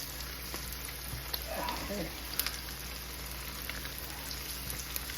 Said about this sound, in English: I'm gonna let them fry I don't want them to fry fast, just kind of slow.